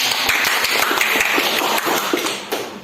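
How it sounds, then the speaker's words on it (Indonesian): A classroom group claps for group 2, a few seconds of quick, uneven hand claps from a small crowd with a bright, close sound. "kasih aplaus untuk kelompok 2 nah"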